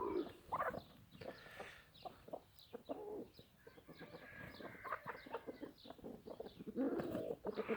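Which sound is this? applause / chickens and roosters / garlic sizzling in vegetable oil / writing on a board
chickens and roosters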